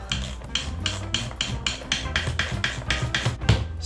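A 10 mm wrench tightens the rear seat bolt on a CRF50 dirt bike, giving a close, steady run of about a dozen sharp ratcheting clicks in quick, even rhythm.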